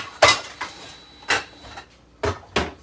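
Metal pots and pans clatter in a home kitchen as someone grabs a small pot, with five sharp knocks and clanks spaced irregularly over a quiet background.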